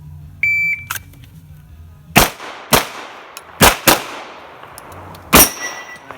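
Gunshots ringing off steel targets on a shooting range: five sharp, loud cracks spread over several seconds, each with a bright metallic ring and decaying tail, after a brief electronic beep at the start.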